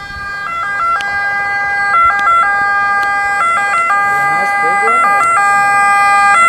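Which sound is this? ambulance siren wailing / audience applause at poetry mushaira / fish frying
ambulance siren wailing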